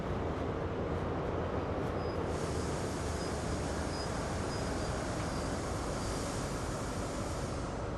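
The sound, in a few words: train running over the points in Train Sim World video game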